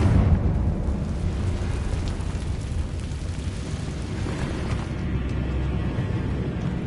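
A Confringo explosion spell erupts in Hogwarts Legacy with a heavy, low rumbling boom that sustains as a dense, roaring crackle for several seconds, fading slightly near the end.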